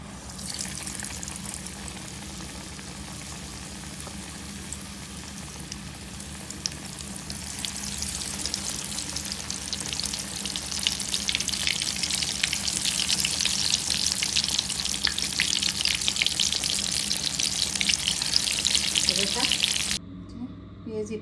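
Eggplant fritters (beguni) fry in hot oil with a steady, dense sizzle that builds louder partway through and holds, then cuts off abruptly near the end.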